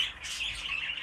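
A Fife canary gives short, bright chirps and tweets, close and fairly soft, in one brief burst with no talking.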